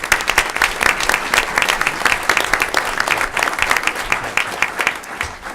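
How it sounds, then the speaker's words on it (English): Sustained applause from an audience at a school board meeting, a dense, even wash of many hands clapping steadily and close by, with no break for the whole stretch. "Huge round of applause for our community."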